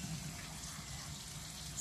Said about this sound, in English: I'm going to rinse it in the water again